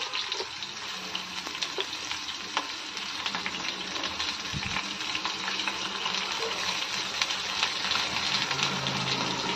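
Crushed garlic cloves and thinly sliced onions frying in hot oil with cumin in a pan, a dense, steady close-up sizzle and crackle that holds throughout with occasional stirring scrapes.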